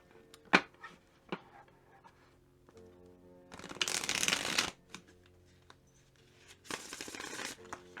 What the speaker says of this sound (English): Let's try the Riffle Shuffle here.